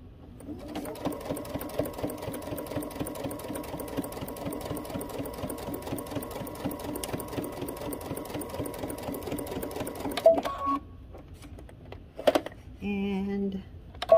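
A domestic sewing machine stitching fabric runs in a steady, fast mechanical whir for about ten seconds, then stops with a few clicks, followed by a short backstitch burst and handling noises.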